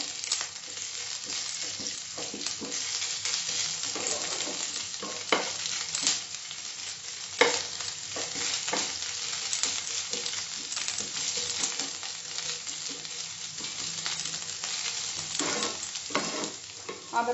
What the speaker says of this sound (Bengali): এবার আমি আদা রসুন বাটাটা দিলাম। এটা সটে করব